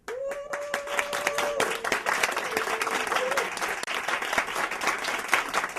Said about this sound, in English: if you think they lied, you'll applaud for them